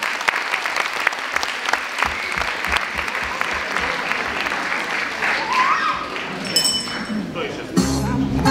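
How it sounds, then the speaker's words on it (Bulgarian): At a Christmas celebration, an audience applauds a performer with dense, continuous clapping, joined by faint clinks and the first notes of music entering near the end. "Силни аплодисменти!"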